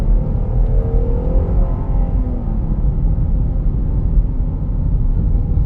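A 2022 Jeep Grand Cherokee Limited 4x4 driving in sport mode, its engine a steady, loud low rumble heard from inside the cabin, holding a gear without any clear rev rise.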